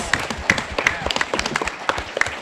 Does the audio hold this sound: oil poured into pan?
no